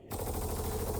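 Old PA SMG from Star Citizen firing in a short continuous burst, a dense rapid rattle of shots that starts abruptly and carries loud and close for about a second.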